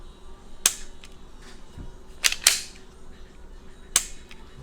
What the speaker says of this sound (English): Now we can start, and then you can simply start shooting.